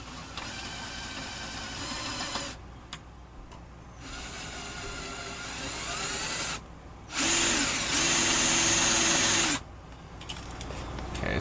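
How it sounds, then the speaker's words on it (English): A power drill bores screw holes into an RV camper, whirring in several separate bursts of a few seconds each, one louder and higher-pitched, with brief quiet gaps between them. "we'll see about going and getting our holes drilled and getting the screws in here"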